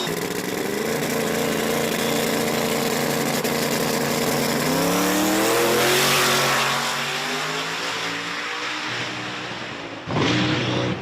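Drag race cars at Virginia Motorsports Park roar down the strip side by side, a loud sustained engine howl with rising pitch as they accelerate, then a fade and a brief fresh burst near the end.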